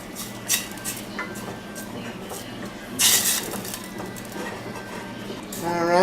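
Pork fingers with bean liquid stirred into brown gravy in a pan over a fire: a few scraping clinks of a utensil against the pan over a low simmering hiss, with louder clatters at intervals.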